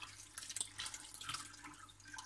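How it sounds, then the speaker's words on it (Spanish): Water poured into a cooking pot while making dried peas with ribs, a faint splashing trickle with scattered drips running unevenly throughout. "yo voy a echar pues medio litro de agua y esto que tengo aquí."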